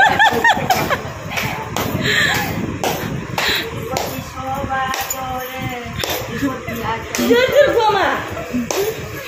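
A small group of people claps in loose, uneven bursts close by, mixed with laughter, snickers and lively talk during a festive village outing.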